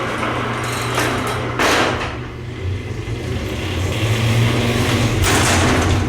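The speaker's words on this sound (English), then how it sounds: "Door is noisy." A noisy, troublesome door on a road-trip vehicle in downtown Lubbock, Texas, opens with loud scraping and clunking bursts over a steady low engine hum, close and harsh.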